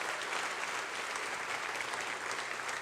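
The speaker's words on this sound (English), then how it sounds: "give them a shout, give them a round of applause." An audience claps for airport workers at a panel discussion, a dense, steady round of applause heard close and loud throughout the short stretch.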